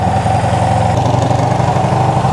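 A Honda CB360 motorcycle engine idles steadily at a raised idle with a loud, even, low throbbing drone and no speech over it.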